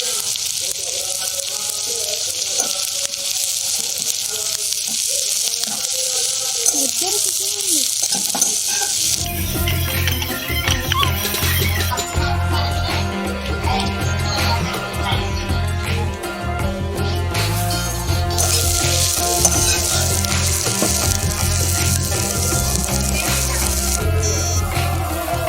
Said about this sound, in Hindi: तेल हो गया गरम। अभी हम ऐड करते हैं हल्दी।